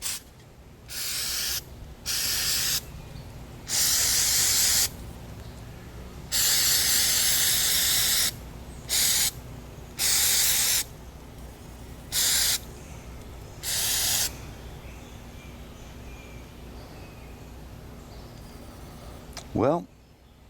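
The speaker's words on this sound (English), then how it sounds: "So I've got mass airflow sensor cleaner, and I'm going to give it a spray." Mass airflow sensor cleaner sprayed from an aerosol can, a series of loud hissing bursts of varying length, some short and some a few seconds long, close up with pauses between them.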